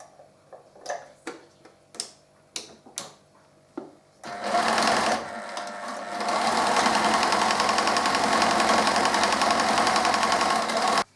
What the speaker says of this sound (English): Just going to sew around the outside edge of the fur collar a bit.